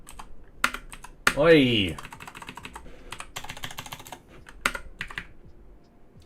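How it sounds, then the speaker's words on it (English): Computer keyboard typing in a series of sharp clicks and clatters during a coding session, with a short spoken exclamation breaking in near the start. "that's my keyboard not accepting the escape key being pressed"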